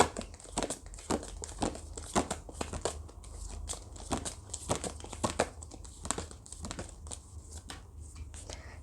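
Tarot cards being drawn and handled close up during a reading: quiet papery crinkles, slides and taps in a steady run of small sharp bursts, soft and near, with no talk over them.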